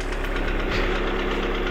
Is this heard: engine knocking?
yes